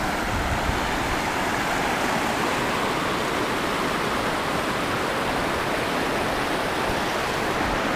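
Steady rushing water from a small waterfall in Pai, a dense continuous splash and hiss with no voices.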